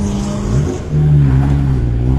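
A Chevrolet Camaro race car engine idles loudly up close, then revs up into a stronger, steady rumbling drone, with no talk.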